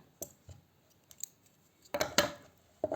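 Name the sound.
scissors cutting yarn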